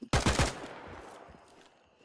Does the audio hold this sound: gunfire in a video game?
yes